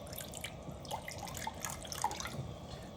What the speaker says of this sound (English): So now we're going to go ahead and add the rest of the broth.